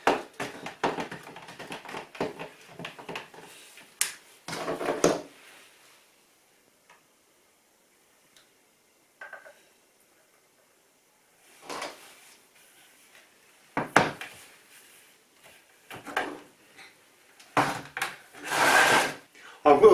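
A tin of baby blue paint is stirred, giving scraping, knocking strokes in uneven bursts near the start and again later, separated by near silence.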